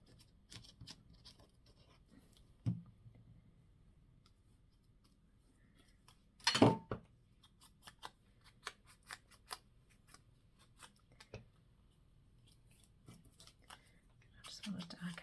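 Scissors snip through a strip of lace with small, close crisp clicks and one louder cutting burst, among soft paper rustles and faint scratchy handling.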